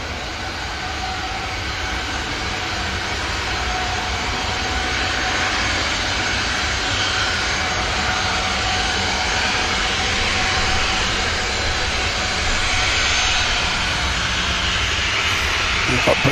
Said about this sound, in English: So the Ryanair's ready for departure now.